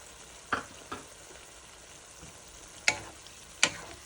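Ground pork mixed with egg stirred in a hot pan, a soft continuous sizzle broken by four sharper scraping spatula strokes, close and clear with no voices.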